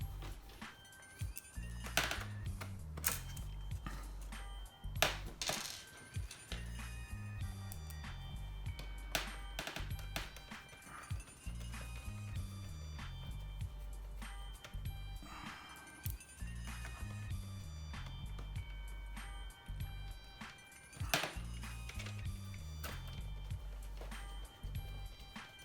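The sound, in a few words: screws being reinstalled in Xbox One X power supply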